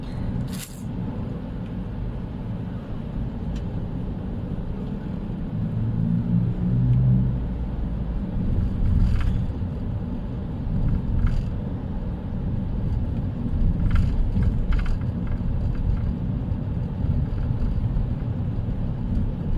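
Steady low rumble of car traffic crawling in a rain-soaked Bangkok jam at dusk, engines idling and creeping close by, with a few brief higher clicks and swishes, no talk.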